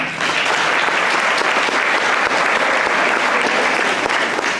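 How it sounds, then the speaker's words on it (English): An audience at a school event applauds loudly and steadily, a dense sustained wash of clapping that fills the whole stretch with no pause. "You guys are gonna get tired of clapping real soon."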